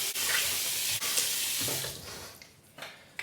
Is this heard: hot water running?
yes